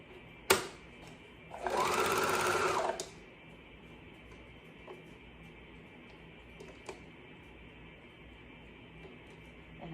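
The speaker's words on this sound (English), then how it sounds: "start at the top and sew down." A sewing machine stitches a side seam on a sublimated baby shirt, sewn from the sleeve edge down through the armpit. One close, steady whirring run lasts about a second and a half, framed by clicks and quiet handling.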